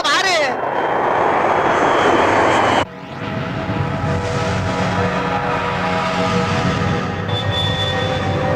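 A jet aircraft roars past at high speed in a loud, continuous rushing drone that shifts in tone partway through as it passes, filling the whole stretch with no voices.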